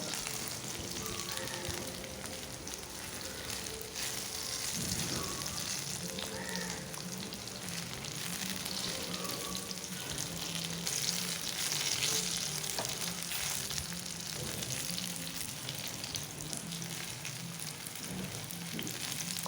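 Sliced eggplant frying in oil in a pan, a steady close sizzle with soft crackling running continuously without a break and no talk over it.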